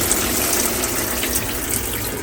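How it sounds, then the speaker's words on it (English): A narrowboat's pump pushes drain water out of the back of the boat in a steady, strong, close gushing rush that runs on unbroken, with no voices over it. "Annabelle turns the pump on here, and that drains the water away"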